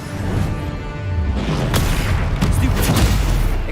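Blasting curse explosion in the Hogwarts Legacy video game, a loud booming burst with crackling debris that swells and sustains, with further impacts rumbling through the low end.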